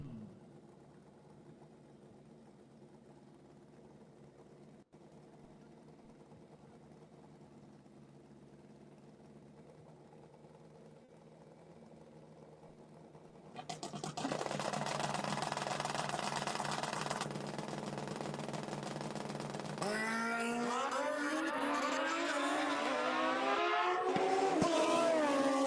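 Kawasaki motorcycles at a drag strip, a low idle hum giving way to a loud sustained engine roar as the bikes launch and pull away, rising in pitch toward the end.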